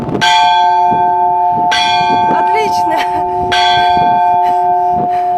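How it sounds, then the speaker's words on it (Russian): Church bells ring in the bell tower of Irkutsk's Epiphany Cathedral, loud and close, with repeated strikes roughly every two seconds and long ringing tones overlapping; a voice briefly speaks between strokes. "Нам разрешили позвонить в колокола"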